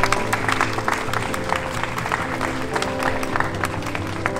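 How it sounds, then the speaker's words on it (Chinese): Wedding guests clap in a steady, dense round of applause that fills the hall, with a faint murmur of crowd noise underneath and no voices rising above the clapping. "以此这段话邀请大家给他们掌声"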